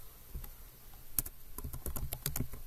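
Fingers type a command on a computer keyboard, an irregular run of close, light key clicks that grows busier toward the end, with no voice.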